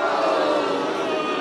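A brief burst of crowd noise, a dense, steady murmur of many voices at constant loudness, lasting only a moment.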